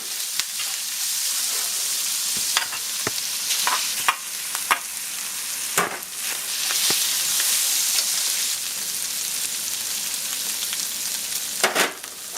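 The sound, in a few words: stirring red pepper, onion and eggs frying in a pan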